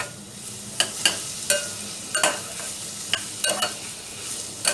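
Onion sautéing in a pan for tuna spaghetti, a low continuous sizzle broken by sharp repeated scrapes and clacks of a spatula stirring, close by.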